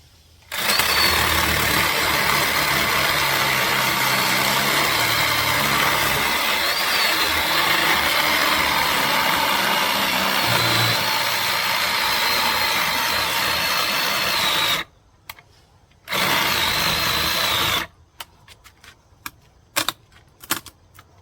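A chainsaw cutting a log in a yard gives a long, loud, steady buzz that holds for about fourteen seconds. It cuts out briefly, starts again, then falls to sparse clicks and clatter.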